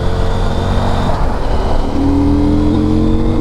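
A 2023 CFMOTO Ibex 800 T adventure motorcycle engine revs steadily at high RPM while riding, a loud continuous drone with rising and shifting pitch and no talk.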